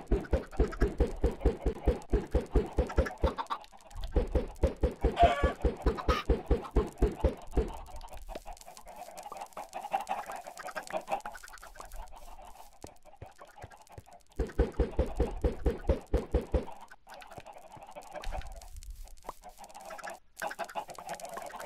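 Flocks of Minecraft chickens cluck in long rapid bursts, loud and near, separated by quieter gaps filled with faint game ambience.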